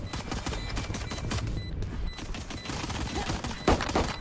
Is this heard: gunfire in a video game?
yes